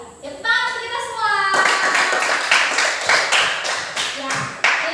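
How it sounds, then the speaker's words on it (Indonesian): Schoolchildren in an Indonesian classroom break into lively group clapping after a procedure-text lesson, with loud, rhythmic claps running several seconds and children's voices mixed in. "Tepuk tangan untuk kita semua."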